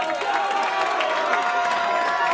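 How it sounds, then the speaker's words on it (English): A lively wrestling crowd at an American Legion Post hall roars and cheers continuously, a dense wash of shouts and applause with a ringside commentator's voice faintly mixed in. "this crowd is on fire right now at the American Legion Post 84"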